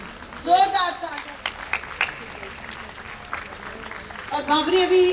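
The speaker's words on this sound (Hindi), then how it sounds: "ताली डालिए, जोरदार ताली" A lecture audience in India breaks into bursts of clapping that rise and fall, mixed with a speaker's voice calling out over the crowd.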